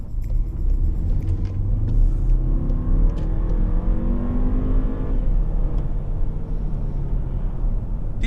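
A 2018 VW Passat 1.8 TSI engine hums and revs steadily, a deep rumble that rises and settles, heard up close without any talking.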